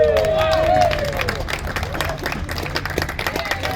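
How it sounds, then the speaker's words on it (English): An outdoor audience claps and cheers at a tall-ship show at Gloucester Docks. The applause is dense and steady, with crowd noise mixed in, and it fades slightly after the first second. "give a big round of applause for Powder Monkey Khalid Gary!"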